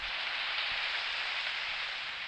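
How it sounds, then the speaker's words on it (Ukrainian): Rain falling in the video game Chicken Gun: a steady, even hiss of rainfall that holds throughout at moderate loudness with no speech. "А, точно, це ж дощ."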